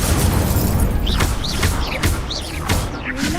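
An Incendio fire spell erupts in a Harry Potter wizarding video game amid a dense, loud din of booming blasts and crackling spell effects, several bursts landing in quick succession with brief rising whooshes.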